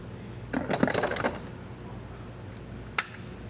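Tin snips bite through the metal jump-start tab on a battery clamp of a 2023 Chevrolet: a quick cluster of crisp metallic crunches and clicks, followed a moment later by one sharp snap.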